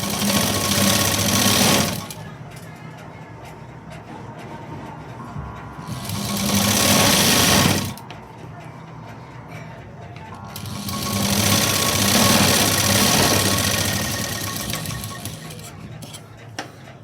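A sewing machine stitches a sleeve in three loud, steady runs of rapid mechanical clatter, separated by quieter pauses, close to the listener.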